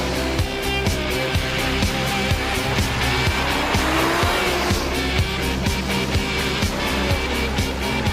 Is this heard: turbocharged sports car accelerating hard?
yes